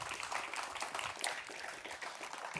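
Light applause rises from a small outdoor crowd at a ribbon-cutting ceremony, a brief patter of scattered clapping at moderate distance.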